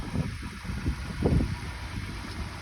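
A 2010 Lexus RX 350 idles, a low, steady, fairly quiet engine hum with light vibration and no voices.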